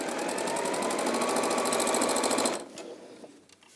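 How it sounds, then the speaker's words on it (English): An Elna sewing machine stitching down the side of a bag, a loud, rapid, even mechanical whir close up for about two and a half seconds, then cutting off into fading clicks. "So just carry on sewing down the side."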